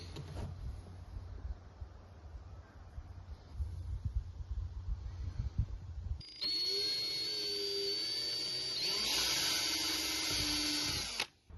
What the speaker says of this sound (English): just drilling out the hole for the lock barrel now, and I'm using a 20mm hole saw for that